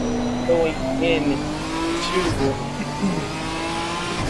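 A GT4 race car brakes hard at Misano in a racing sim, its engine droning and dropping through gears with short revving blips, under steady commentary.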